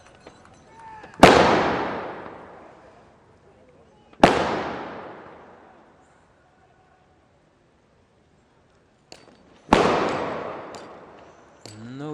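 Three loud, sharp sniper rifle shots ring out at a SWAT competition, each with a long decaying echo, spaced a few seconds apart, with a faint click between the second and third.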